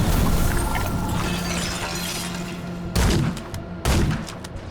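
Enemy gunfire in the game Remnant II rattles as a loud, dense barrage, broken by two sharp, sudden bursts near the end.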